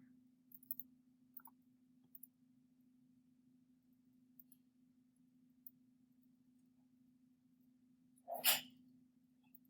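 A single sharp sneeze bursts out near the end, close and loud, over a steady low electrical hum with a few faint clicks earlier.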